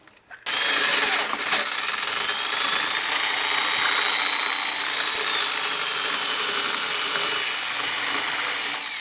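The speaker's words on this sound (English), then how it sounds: "And that's where I'll drill that hole." A power drill bores a hole through a pedalboard, running loud and steady for about nine seconds after a quick start, its high whine holding without a break.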